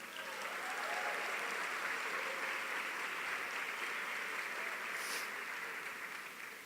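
A church congregation applauds continuously, a dense wash of clapping that holds steady throughout before tapering slightly at the end.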